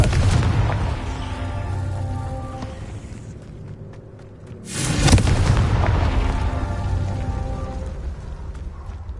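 A Confringo spell explosion in a video game: a sustained rumbling backdrop swells into a loud, close booming blast midway, then rolls on with a heavy decaying roar.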